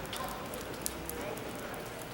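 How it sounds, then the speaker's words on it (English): Rain falls on a cold night in Munich, a steady broadband hiss and patter that runs evenly through the whole stretch with no pauses. "a cold, rainy, miserable night"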